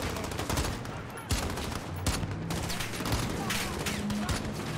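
Rapid, overlapping gunfire crackles through a Call of Duty Modern Warfare campaign firefight, dense bursts of shots over a rumbling battle backdrop with faint voices beneath.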